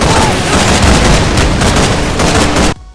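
Gunfire in the war game Call of Duty 3, a dense, loud and continuous barrage of shots and blasts that carries steadily for nearly three seconds before cutting off abruptly.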